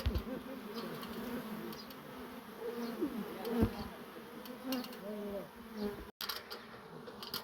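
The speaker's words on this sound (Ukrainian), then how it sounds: "Залетів рій в хату." A swarm of bees that has flown inside a house, producing a dense, continuous droning buzz that fills the room steadily throughout, with individual bees' pitch rising and falling close by.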